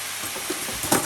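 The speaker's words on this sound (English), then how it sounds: "I'm just going to put it into the stir fry" Food sizzles as it is added to a stir fry with precooked rice, a steady close frying hiss with a couple of brief louder crackles near the end and no talking.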